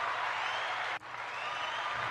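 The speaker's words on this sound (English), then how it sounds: "That was like a delayed round of applause" Steady broadband applause from a crowd in a podcast studio, a continuous wash of clapping that breaks off for an instant midway and then resumes at the same level.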